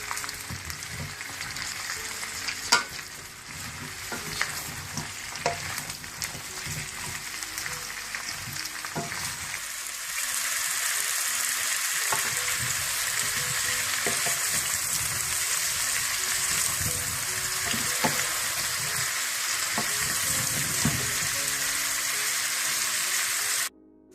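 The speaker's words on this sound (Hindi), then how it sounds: "इसको आप थोड़ा सा भून लें।" Cauliflower frying in butter in a pan for a gobi gosht dish: a close, steady sizzle with a few stirring clatters, growing into a louder, even hiss partway through.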